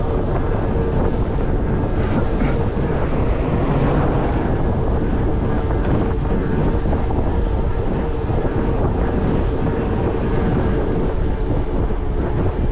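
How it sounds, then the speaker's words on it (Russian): Strong wind roars continuously against the microphone on an October drive in Crimea, a loud, unbroken rumble with gusting texture throughout. "Да, ветер капец."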